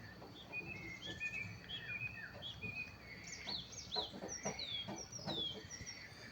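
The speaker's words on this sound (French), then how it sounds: "écoutez tous ces bruits, tous ces chants des oiseaux, même bien les grenouilles qui croissent" Outdoors, birds chirp and call over a steady bed of ambient noise, including clucking fowl, with frogs croaking nearby, the calls overlapping at moderate distance.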